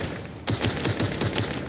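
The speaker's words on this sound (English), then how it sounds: "Oh no, we need the AR." An assault rifle fires in the Cyberpunk video game, sending out a fast, even string of about seven shots after a brief lead-in, steady and close.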